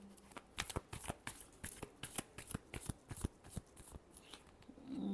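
Tarot cards are shuffled by hand in a quick run of crisp, riffling flicks that repeat steadily for several seconds, close and fairly faint, with no talking.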